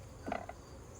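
Honey bees buzz around a hive box during a hive inspection, a faint, brief drone that passes close by for a moment against quiet outdoor background.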